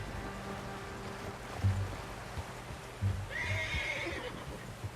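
A horse whinnies in the Red Dead Redemption video game, a bright, shaky neigh rising mid-clip over a low game soundscape of hoofbeats and ambient tones, with a few soft thumps.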